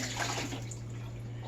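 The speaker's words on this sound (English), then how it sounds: "I need to dump that water out." Water from dyeing yarn is poured out, giving a steady rushing splash over a low background hum, fairly quiet and continuous with no speech.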